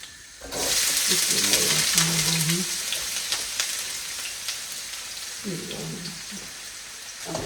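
Chopped garlic and large onions fry in a big kadhai with a loud, close hiss that rises suddenly and then settles into steady sizzling, while a person talks briefly in two stretches.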